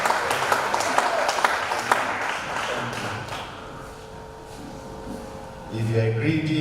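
An audience at a WAP programme in Abuja claps to welcome a pastor, a burst of lively applause that fades out after a few seconds, followed by music and a voice.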